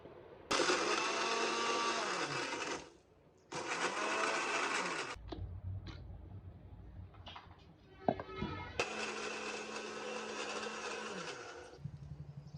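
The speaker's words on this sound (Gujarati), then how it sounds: "આનો મિક્સર કરવાનું છે" An electric mixer blends Oreo biscuit cream in bursts. A loud, steady motor whir runs about two seconds at a time, with pauses and a few clinks in between, and a longer final burst.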